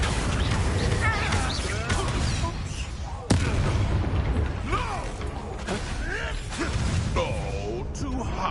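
Confringo spell blasts in Hogwarts Legacy going off amid a chaotic fight, with a sharp crack near the middle and scattered booms and creaks over busy combat noise and shouted voices.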